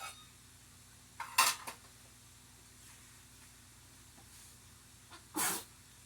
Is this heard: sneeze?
yes